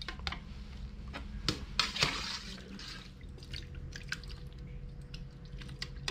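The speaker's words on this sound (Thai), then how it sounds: "นำมะขามของเรามาแช่ในน้ำเกลือเลยครับ" Tamarind pods dropped into a container of salt water for pickling give a few wet squishes and drips, fairly close, among light handling noises, with no talking.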